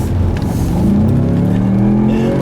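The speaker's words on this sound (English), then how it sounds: "I'll leave you guys with a nice little acceleration here" A Ford Mustang accelerates hard on a wet road with wheel spin, its engine roaring loud and close as the pitch climbs steadily through the pull.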